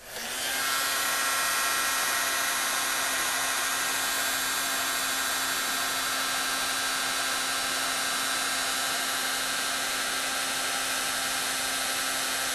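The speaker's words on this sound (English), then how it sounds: "Now I need to heat it with my heat tool." A craft embossing heat tool blows hot air over embossing powder, a loud, steady high-pitched whir that starts abruptly and holds unbroken throughout, with no talking.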